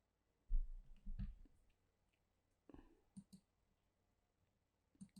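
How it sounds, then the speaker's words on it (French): Mouse clicks made while installing Blender 2.8 on a computer: a few soft, close clicks in small clusters, quiet and spaced apart, with no talking. "Et je clique sur Install"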